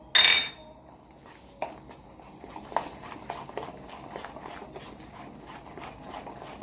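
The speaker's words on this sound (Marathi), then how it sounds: "आता आपण हे फेसून घेऊ चांगलं" Moong dhokla batter, mixed with baking powder and Eno, is whisked in a bowl, giving a faint, steady run of soft rhythmic clicks and taps after a brief louder clatter at the start.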